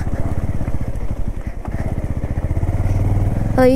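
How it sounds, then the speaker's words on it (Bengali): A motorcycle ridden over a muddy road on the Singtham–Dikchu route in Sikkim, its chain and sprocket rattling in a steady fast clatter over a loud, close engine drone throughout. "চেন স্প্রকেট দিয়ে খটখট খটখট করে আওয়াজ বেরোচ্ছে।"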